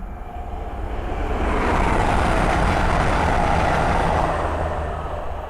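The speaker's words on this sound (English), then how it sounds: "the next train to pass by is an East Midlands Railway Meridian from London St Pancras to Sheffield." An East Midlands Railway Meridian train passes by at Ayres End Lane on the Midland Main Line, a loud broadband rush that swells, holds for a few seconds and then eases off, with no voices.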